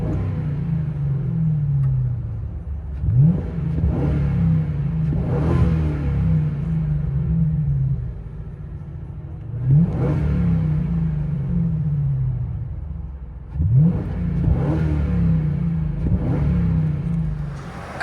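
A 2004 Lincoln Town Car with a 4.6L V8 and Flowmaster Flow FX exhaust through an X-pipe and 4-inch tips, heard from inside the cabin, idles with a deep steady rumble broken by three quick throttle blips that rise and fall.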